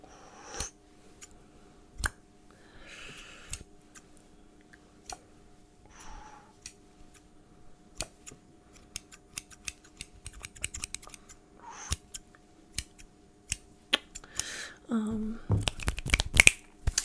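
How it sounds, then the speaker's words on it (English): Crisp metallic snips from metal scissors repeat irregularly, some in quick bursts, close by, with brief soft talking between and a rustling flurry near the end. "look at these fun scissors I found"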